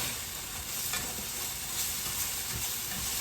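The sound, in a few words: jarred garlic sautéing in a pan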